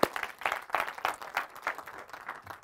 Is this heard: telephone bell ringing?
no